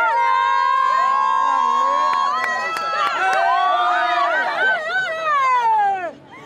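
A dense, loud crowd of onlookers around the Paris 2024 Olympic cauldron shouts and cheers continuously, with high voices and wavering calls rising over the hubbub before it drops away at the end.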